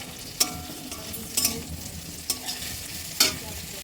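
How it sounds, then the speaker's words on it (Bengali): Pointed gourd (jali potol) slices fry in a pan with a soft, steady sizzle. Four distinct scraping stirs punctuate it at regular intervals, and there is no talking. "ফার্স্টেই আমি পটল ভাজা বসিয়ে দিয়েছি"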